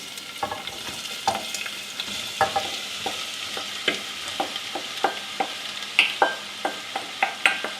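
Onions fry in a pot for a German currywurst sauce, a close, steady sizzle broken by regular stirring scrapes that come in a repeating rhythm.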